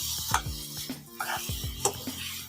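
Boiled rice being stirred and mixed in a pot while making zarda, a sweet rice dish, with soft scraping, spoon knocks and faint sizzle in a few irregular strokes, close and fairly quiet.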